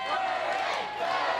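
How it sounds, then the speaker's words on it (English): Crowd at a live professional wrestling event cheering and shouting steadily for a wrestler rushing in, a dense, continuous roar of voices filling the hall without a break. "Listen to these people as Moody rushes in."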